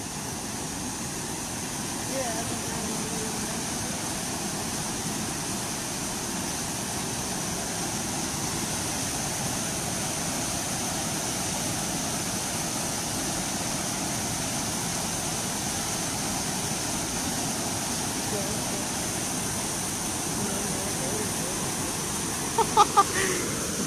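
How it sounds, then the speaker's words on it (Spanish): Steady broadband rush of flowing water in an outdoor spot at night, continuous and fairly loud throughout, like a stream or small waterfall, with a few brief knocks near the end. "Ahí está el agua"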